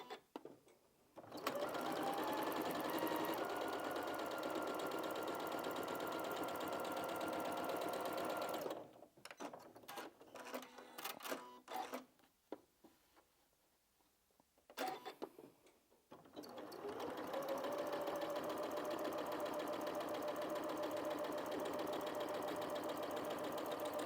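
A sewing machine stitches a quilt-as-you-go patchwork Christmas cushion from scrap fabric, running in long steady bursts near and loud, pausing midway for quieter fabric handling before resuming.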